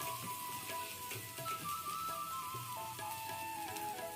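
Starchy water poured off a pot of cooked rice, a soft continuous splashing and hiss with faint clinks of the pot.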